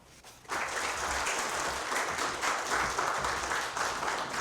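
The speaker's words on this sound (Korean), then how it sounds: "이사장님께 큰 박수 다시 한번 부탁드리겠습니다" Applause at a hospital's 34th anniversary ceremony starts after a quiet half-second and holds as steady, dense clapping from a large indoor audience until the end.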